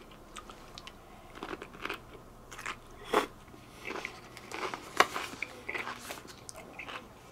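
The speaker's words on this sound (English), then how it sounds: "A lot of chewing going on." Crunchy bites and wet chewing on a Warhead extreme sour pickle, close and fairly quiet, with irregular crackling bursts repeating over several seconds and no talking.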